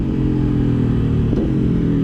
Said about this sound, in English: Downshifting, it sounds like a giant going fee, fi, fo, fum.